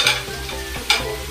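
Onion hits a hot pan for Filipino pork adobo, giving a burst of sizzling, then stirring scrapes and a second sharp sizzle near the end, close and loud.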